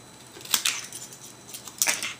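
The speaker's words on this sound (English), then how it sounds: "Then I'm going to come in with my scissors and just trim it." Scissors trimming paper up close, two quick pairs of crisp snipping clicks separated by a short pause, against a quiet background.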